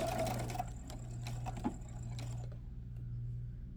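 A domestic sewing machine stitches bias tape onto a garment neckline, a steady close motor hum running for about two and a half seconds before stopping, with faint clicks and handling noises afterward.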